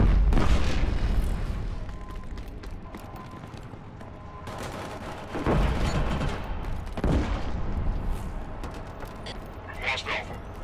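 A grenade blast in the shooter Killzone Shadow Fall, a booming burst followed by more gunfire and explosions amid busy multiplayer combat, with a player talking over the noise.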